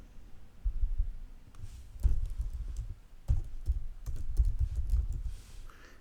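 Someone types on a computer keyboard, a quick run of close, soft key clicks with short pauses, entering a workflow name in a computational biology analysis tool.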